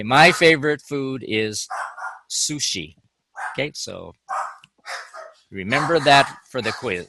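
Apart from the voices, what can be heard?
dogs barking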